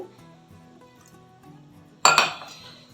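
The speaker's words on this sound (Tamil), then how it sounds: "ஐஸ் க்யூப் போட்டுக்கலாம்" Ice cubes dropped into a glass while making a rose syrup watermelon sharbat, landing in one sudden bright clatter of clinks that rings briefly and fades, preceded by quiet background.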